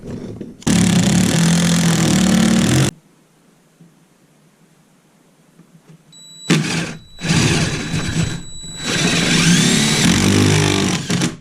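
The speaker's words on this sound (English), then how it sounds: "I got my number 14 3-inch long hex head self-drilling screws." A power driver whirs in two loud bursts separated by a quiet pause, followed by several shorter stop-start runs as number 14 three-inch hex head self-drilling screws are driven in to secure a trash compactor in a converted school bus.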